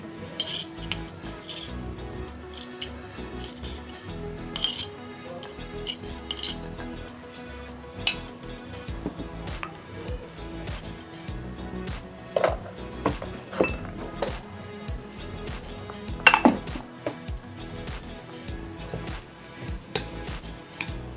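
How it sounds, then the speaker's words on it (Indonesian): Eggs mixed with grated coconut beaten in a bowl, giving a quiet, continuous rhythmic clatter of a utensil against the bowl with occasional sharper clinks. "Tuangkan ke tempat untuk mengocok telurnya."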